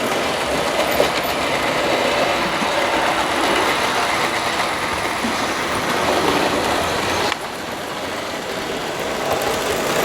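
A Märklin model train locomotive runs along its track with a steady, whirring rumble that holds for several seconds, then softens slightly near the end.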